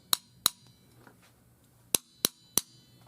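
Sharp metallic knocks on a water heater expansion tank, two quick raps, a pause, then three more, ringing and clanky, close and fairly loud over quiet room hum.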